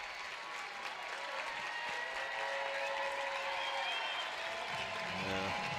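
A near-capacity college baseball crowd at the Rhodes House stadium during Alabama vs. Virginia Tech stands, applauding and cheering in a dense, continuous roar that holds steady throughout, heard from a broadcast booth.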